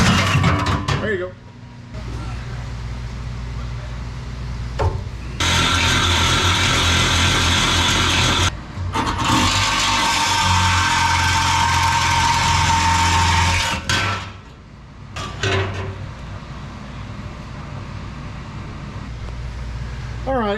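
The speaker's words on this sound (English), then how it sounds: "we're just going to go ahead and get all this old exhaust out from under the truck" Old exhaust is pulled from under a 7.3 PowerStroke diesel truck, with bursts of clattering, ratcheting tool and metal-handling noise broken by short pauses, close by, while people talk in between.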